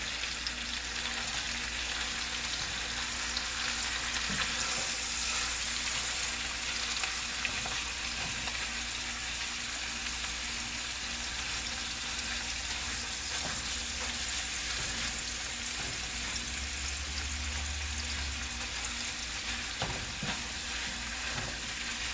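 Ground beef sizzles and crackles in a frying pan, a continuous close, dense spatter with occasional scraping from stirring, and no voices.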